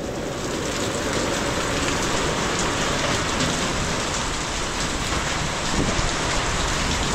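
Steady, heavy rain pours down without pause in the countryside, a dense continuous hiss of drops hitting surfaces close by.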